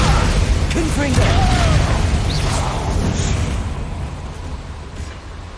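Spell blasts from Bombarda and Confringo in the video game Hogwarts Legacy: a dense rumbling boom with scattered pops and crackles that slowly fade, under a steady wash of game noise and spoken spell incantations.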